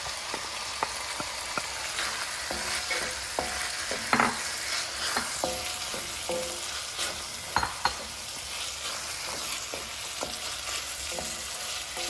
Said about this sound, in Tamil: இப்போ வதக்கின பிரண்டை போடுறேன்